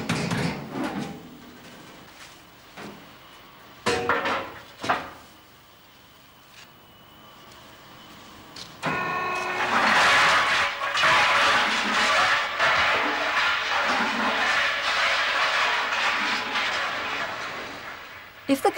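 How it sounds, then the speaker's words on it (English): Lumps of coke tumble inside a rotating cylinder fitted with baffles, first as scattered knocks and thuds, then as a loud, continuous rattling clatter of pieces being flung around. "lumps of each different size are rotated in a cylinder with baffles inside"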